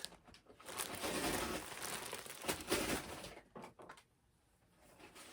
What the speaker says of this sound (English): All that crinkling you hear is Toby playing in the paper.